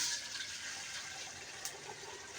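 Water being poured, a faint, steady splashing and gushing with a brief louder splash midway, no voices.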